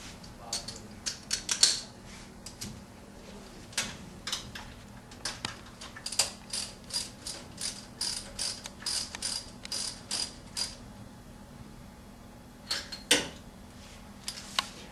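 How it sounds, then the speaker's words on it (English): A wrench snugging a spark plug into the cylinder head of a Daihatsu Titan 575, a long run of close, crisp ratcheting clicks in irregular bursts with brief pauses, no voices. "When you have it all the way down in there, you should snug it with a wrench."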